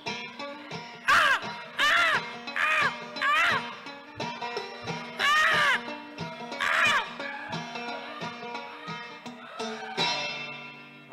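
A live concert audience in a shed venue imitates crows, calling out a series of loud voiced caws in rhythmic bursts, roughly a dozen shouts spaced a second or so apart, with a guitar chord ringing under the last ones.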